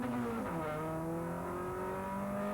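Suzuki Swift race cars at Knockhill accelerate hard off the grid, engine notes climbing steadily through the gears in a loud, continuous racing drone with rising harmonic lines.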